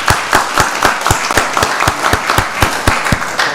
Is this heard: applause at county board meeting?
yes